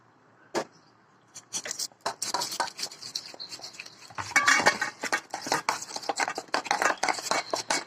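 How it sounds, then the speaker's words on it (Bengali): Hilsa fish being mixed by hand with mustard paste, ginger, garlic, green chilli, salt, turmeric and mustard oil, heard as close, wet clinking and squelching against a dish, beginning after a lone click and continuing steadily with no talk. "এগুলা দিয়ে একটু সর্ষের তেল দিয়ে মিক্স করব।"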